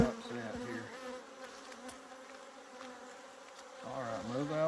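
Honey bees swarm around an open hive during pest treatment, a dense steady buzzing hum close by, rising and falling in pitch as insects fly near, with no talking.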